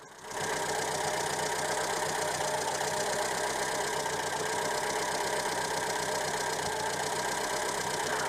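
Uneven idle from the C1J engine of a Renault 11 GTL, with intermittent misfires breaking a continuous, close mechanical hum; no voices are heard.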